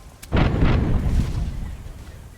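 Ship cannons in the pirate video game Tortuga A Pirate's Tale fire as a loud, close broadside, a heavy rumbling boom that rolls on and fades over about two seconds.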